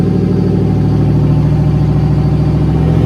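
Ford Mustang engine running in high gear on a chassis dyno, a loud, steady, sustained drone with rich low harmonics that holds even throughout, with no voices over it.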